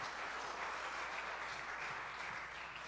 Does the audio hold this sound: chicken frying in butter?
no